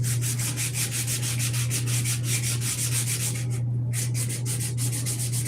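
Plywood being sanded by hand with 80 grit paper, a steady rhythmic scratching of repeated strokes close by, with a constant low hum underneath and a brief pause midway.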